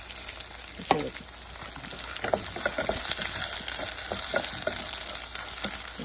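Rice frying and browning in a pan, a steady sizzle with soft scraping stir strokes and small pops throughout, fairly close and continuous.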